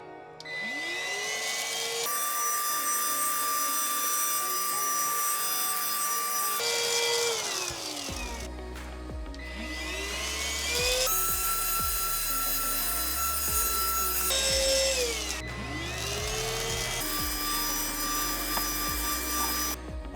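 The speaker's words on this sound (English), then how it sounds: "let me go ahead and get the vacuum and clean out all the vents" A vacuum cleaner cleans out the wall vents inside a fifth-wheel RV, its loud whine cutting in and out in repeated on-off cycles with brief drops in between.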